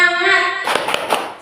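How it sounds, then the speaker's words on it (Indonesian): A group of women clapping a short rhythmic cheer in a workshop setting, a few sharp claps in quick pattern following a sustained sung or shouted voice at the start. "Coba tepuk semangat. Tepuk semangat."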